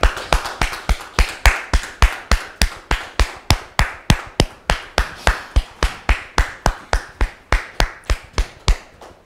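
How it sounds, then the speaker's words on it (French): Studio audience applause welcoming a guest onto a French-language talk show set, heard as a slow, very regular series of sharp, loud claps, about three per second, sounding like a single close pair of hands rather than a crowd. "Merci de le recevoir sous vos applaudissements."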